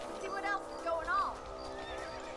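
A horse in Red Dead Redemption gives a couple of close, wavering neighs with a faint clip-clop of hooves beneath, over a steady ambient backdrop.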